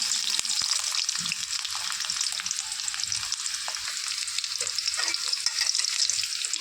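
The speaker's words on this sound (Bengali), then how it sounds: "এখন আমি আগে ফ্রেঞ্চ ফ্রাইটা করে নেব। ফ্রেঞ্চ ফ্রাইটা করার জন্য পরিমাণ মতো তেল দিয়ে দিয়েছি। আলুগুলো দিয়ে দিলাম" Potato sticks deep-fry in oil for French fries, a loud, continuous close-up hiss and crackle of bubbling oil with occasional light stirring knocks.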